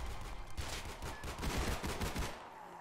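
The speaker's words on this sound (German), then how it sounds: "Schieß auf den Dicken! Schieß komm, auf den Dicken!" Rapid bursts of gunfire from a Roblox zombie-survival game, fired at a zombie, crackling in a dense, continuous volley of sharp shots with no talk over them.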